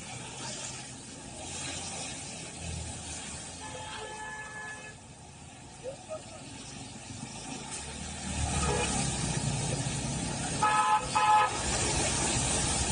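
Road traffic crawling through waterlogged streets in the rain in Hyderabad: a continuous hiss and rumble of vehicles, with several short car horn toots, some in quick pairs, cutting through toward the end.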